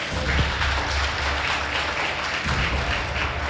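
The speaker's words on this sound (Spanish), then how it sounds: "Un aplauso para Byron, sí." A church congregation applauds, a thick, continuous patter of clapping blended with a low rumble of room noise, steady and fairly loud throughout.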